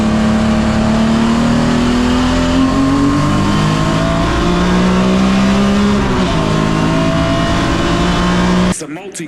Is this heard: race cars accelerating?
yes